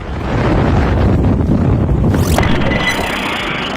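A violent storm wind roars and buffets loudly and constantly, battering the microphone with heavy gusts in a city during a destructive windstorm, without pause.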